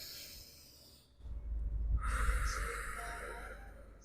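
Deep exhale in a group yoga session: a long, breathy rush of air that swells after a quiet moment and then slowly fades, close and fairly loud, with no speech over it.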